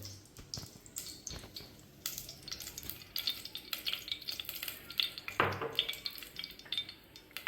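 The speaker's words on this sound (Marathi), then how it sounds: "आता आपण या भांड्यामध्ये थोडं तेल ओतून घ्यायचं आहे" Oil poured into a cooking pot while making butter mutton, faint crackling and sizzling with scattered metallic clinks and scrapes, close and uneven.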